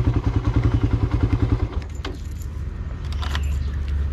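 A carbureted Suzuki Raider motorcycle cranks with a rapid rhythmic starter chug for about two seconds, then catches into a steady idle close by, with no talk.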